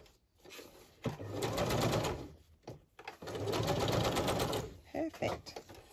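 A sewing machine stitches fabric for a handmade notebook in two bursts of rapid mechanical whirring, close and loud, separated by short pauses with soft handling noises.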